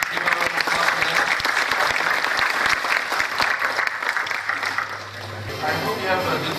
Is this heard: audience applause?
yes